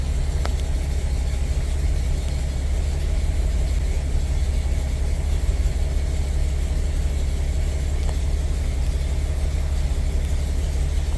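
A Toyota FJ40 engine idles steadily at cold idle, a constant low rumble running close and unbroken, with a couple of faint clicks near the start and no talk.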